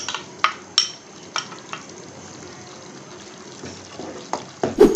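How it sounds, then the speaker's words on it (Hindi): Mashed chickpeas being stirred into a simmering chana masala gravy, with soft wet stirring and spoon scrapes at intervals over a low bubbling simmer, fairly close and without talk. "जो हमने 2 चम्मच चने के इसमें से अलग किए थे उनको मैंने मैश कर लिए, उसको हम इसके अंदर ऐड करेंगे।"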